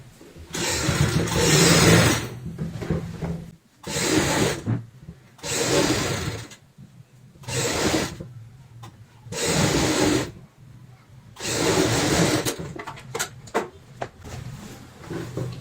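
A sewing machine runs in repeated bursts of stitching as it sews the lining of a bag made from old denim jeans, each run a few seconds long with short pauses between, close and fairly loud.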